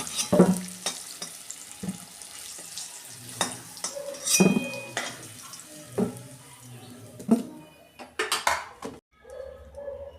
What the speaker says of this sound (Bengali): আমার আলু ভাজা হয়ে গেছে, আমি এই যে তুলে নিচ্ছি